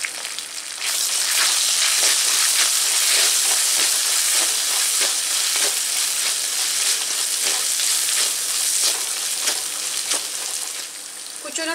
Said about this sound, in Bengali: আদা তেলে কিছুটা ভাজা হয়ে যাওয়ার পর আমি একটু লাল লঙ্কার গুঁড়ো দিয়ে দিচ্ছি অল্প।